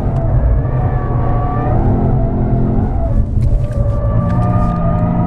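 Engine of a 2015 Lexus RC F heard from onboard while lapping the Ascari circuit, a loud, steady drone with rising and falling revs throughout and a brief dip midway.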